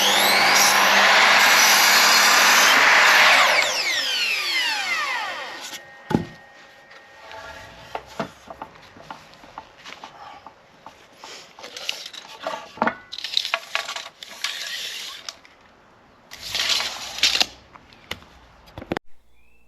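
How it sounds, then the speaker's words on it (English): A miter saw cuts through wooden decking joists, a loud close whine that winds down over about six seconds, followed by scattered knocks and clatter of wood being handled. "So I'm going to set up the miter saw now and get them cutting."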